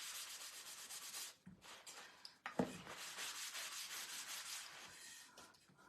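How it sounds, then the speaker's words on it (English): A brown paper bag lightly rubbed over wood as a fine sanding pass, with soft continuous scratchy strokes, a couple of brief pauses and small knocks midway, quiet and close. "you can use this to lightly sand with"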